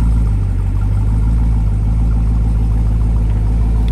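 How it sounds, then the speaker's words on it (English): A car engine runs steadily at close range with a strong low rumble, loud and unbroken for the whole stretch with no talk over it. "Did you hear that engine?"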